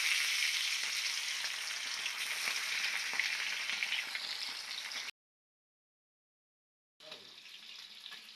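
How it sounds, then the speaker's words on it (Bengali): Sea fish frying one piece at a time in hot oil in a wok, giving a loud, continuous sizzle that cuts out abruptly for about two seconds and then resumes. "এদিকে কড়াইতে তেল দিয়ে দিছি, তেলও গরম হয়ে গেছে। মাছগুলা এক এক করে ভেজে নিচ্ছি।"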